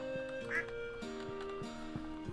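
Ducks quack in Stardew Valley, a few short calls over steady looping game music with faint voices underneath.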